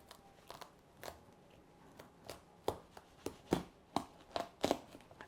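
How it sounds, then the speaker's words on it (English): A knife works through the very tough skin of a spaghetti squash, giving scattered crunching, cracking cuts that grow louder and closer together toward the end, with no one speaking. "please be careful when you're cutting these with a knife because they are very, very tough to cut"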